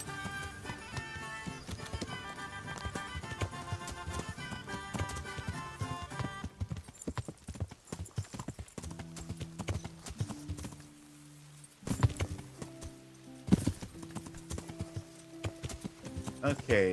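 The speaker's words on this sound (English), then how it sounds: "We aren't on our horses as we were traveling." Horse hooves clip-clop steadily in the medieval video game Kingdom Come Deliverance, a rhythmic run of taps over game music, with someone talking at times.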